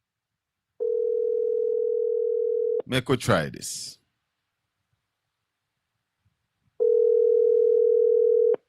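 Two long, steady ringback tones sound on a phone call while waiting for someone to pick up, separated by a brief spoken remark and silence.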